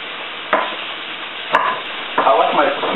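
Sliced potatoes frying for hash browns, with a utensil stirring and scraping the pan bottom in a few strokes over a constant close sizzle.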